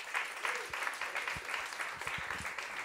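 A crowd claps at a tribute concert of choro music, steady dense clapping at moderate level with a few sharper claps standing out near the front.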